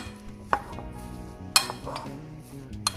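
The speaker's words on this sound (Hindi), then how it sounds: "अब मैं कर रहा हूँ इस सारी चीज़ों को मिक्स।" Utensils clinking against a bowl while ingredients for a tandoori aloo paratha are mixed, with three sharp metallic taps standing out over softer scraping and stirring at close range.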